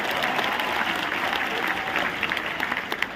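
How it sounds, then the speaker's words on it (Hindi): Loud, dense applause from the audience at a stage comedy tribute show, sustained and crowd-wide throughout with a faint murmur of voices. "तालियां जोरदार तरीके से"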